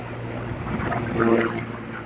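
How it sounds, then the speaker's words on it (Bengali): A helicopter's low droning engine hums and swells slightly as it passes overhead, with soft voices murmuring in the background. "কি সুন্দর হেলিকপ্টারটা কত কাজ দিয়ে যাচ্ছে"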